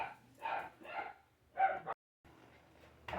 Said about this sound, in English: She's the reason for all the barking, kicking up the dust.